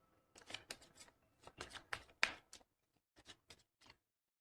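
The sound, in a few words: shuffling a deck of reading cards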